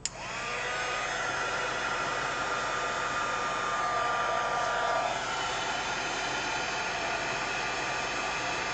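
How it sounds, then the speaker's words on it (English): An embossing heat tool blows hot air across vellum to melt embossing powder, a loud, steady, close-up whooshing roar that holds evenly for the whole stretch with no talking. "So now I'm going to emboss it with the heat tool."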